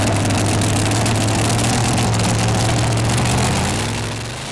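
A pulling tractor roars at full throttle at the 2008 Danish Tractor Pulling Championship in Herning, its loud, steady engine drone sustained close up and fading slightly at the end.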